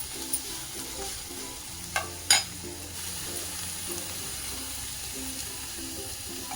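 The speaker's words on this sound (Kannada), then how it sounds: "ಹಸಿಮೆಣಸಿನಕಾಯಿ ಸ್ವಲ್ಪ ಅರೆಬರೆ ಬೇಯಲಿ ಎಣ್ಣೆಯಲ್ಲಿ." Green chillies, onion and curry leaves frying in oil in a pan for a simple beetroot palya, giving a steady low sizzle with a few sharp clatters of stirring near the start, no talking.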